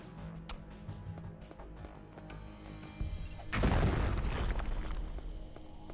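C4 charge detonating in a video game: a sudden deep blast bursts out midway, loud and broad, then rumbles and fades slowly over a bed of game background sound.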